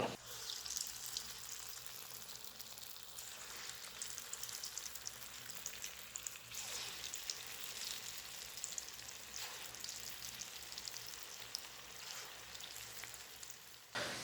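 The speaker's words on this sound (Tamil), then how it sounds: "இப்போ எண்ணெய் நல்லா காஞ்சிருச்சு ஒரு பல்சா உருட்டி போட்டுக்கலாம்" Steady crackling sizzle of urad dal vada balls deep-frying in hot oil, continuous and close, with no talking.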